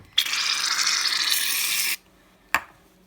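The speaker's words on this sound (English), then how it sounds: "push it down and put about a layer of shaving foam on top of your glue" Shaving foam sprayed from a pressurised can onto glue for fluffy glitter slime, a close, loud hissing burst lasting nearly two seconds, then a short second spurt after a pause.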